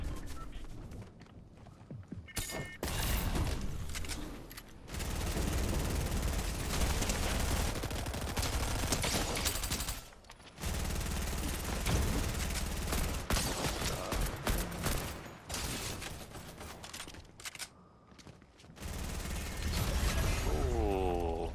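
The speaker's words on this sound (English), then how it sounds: "they're shooting us from on top of the hill again" Rapid gunfire in the video game Fortnite, with dense bursts and crackling shots packed together over most of the stretch, broken by a few brief lulls, loud and close.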